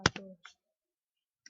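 A few quick keystrokes on a computer keyboard while working in an Excel spreadsheet, close and crisp, followed by silence and one faint click at the end.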